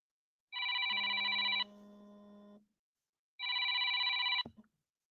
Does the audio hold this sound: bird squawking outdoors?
no